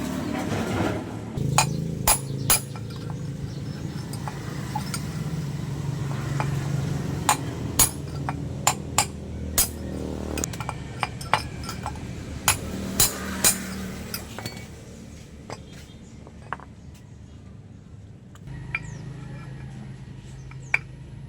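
A Yamaha Aerox 155 torque drive with a failed bearing is taken apart, giving scattered sharp metallic clinks and taps from tools and parts against a steady low workshop hum, with quieter pauses toward the end.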